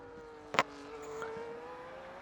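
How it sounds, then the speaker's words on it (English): Video-game race car in Hungary qualifying, leaving its out lap and powering toward turn one: a faint, steady engine tone that rises slightly, with a brief sharp click early on and no voices. "There he goes, pedal to the metal, ERS wide open, and away he goes into turn 1"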